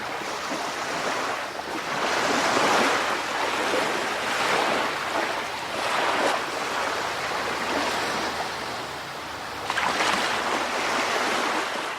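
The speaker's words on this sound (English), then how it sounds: "Can you hear the water?" Ocean surf washes in and out in broad, rolling swells at a steady rhythm, with a rushing hiss of water and some wind noise, and no voices.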